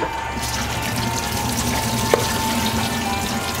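Cold water runs steadily from a kitchen tap over cooked rice noodles (bifum) drained in a sink, a close, continuous splashing hiss with one brief clunk partway through and no talking.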